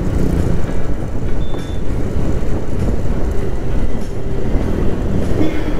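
A metro train rolls past near Shahid Khudiram metro station, a loud, close, continuous rumble with steady rail rattle throughout and no speech.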